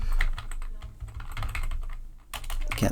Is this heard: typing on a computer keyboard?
yes